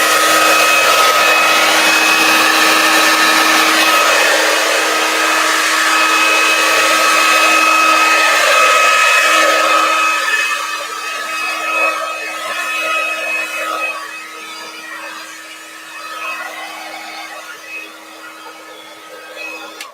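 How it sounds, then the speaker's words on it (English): A hair dryer blows loudly and continuously with a steady whine and rushing air, its sound wavering and easing slightly in the second half. "now I'm going to turn my hairdryer on, so it's going to be a little loud"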